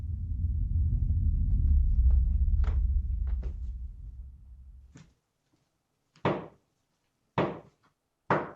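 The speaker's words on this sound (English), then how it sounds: "Oh, it's like knocking, okay." Sharp knocks at 2:30 in the morning: a few faint taps over a fading low rumble, then three loud, isolated knocks spaced about a second apart in near silence.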